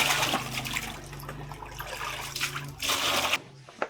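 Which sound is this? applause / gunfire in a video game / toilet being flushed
toilet being flushed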